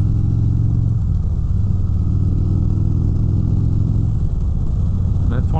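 A 2017 Harley-Davidson Road King touring motorcycle with 25,000 miles rumbles steadily while riding, a loud, low continuous engine drone with slight shifts in pitch throughout.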